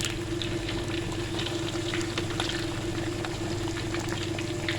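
Lahori masala fish frying in a pan of oil, a steady, even sizzle with constant bubbling and fine crackles, close and continuous, no talking.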